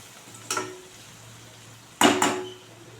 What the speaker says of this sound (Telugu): కారం, ధనియాల పొడి, పసుపు అన్నీ వేసి కలుపుకోవాలి